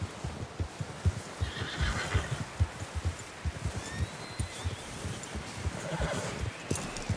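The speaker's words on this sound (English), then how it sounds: "Someone help John down off this horse" Horse from the video game Red Dead Redemption 2 whinnies up close over a steady clip-clop of hooves, the footfalls keeping an even, loping rhythm throughout.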